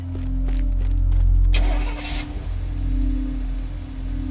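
A car engine in the video game Teardown drones low and steady throughout, with a brief burst of rougher, noisier rumble midway before settling back into its even hum; no one speaks.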